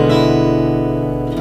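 One full strum of an E dominant 7th chord on guitar, open strings ringing out close and steady for over a second with no talking.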